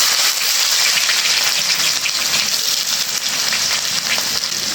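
Chopped onion frying in hot oil for a prawn curry, giving a steady, dense, bright sizzle that stays loud and close throughout with no talking.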